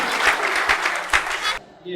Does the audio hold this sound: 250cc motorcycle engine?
no